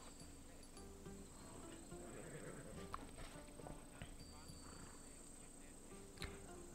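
Horse hooves clip-clop at a steady walking pace in Assassin's Creed Odyssey, moderately close and fairly quiet, under a constant game ambience of insects and background chatter.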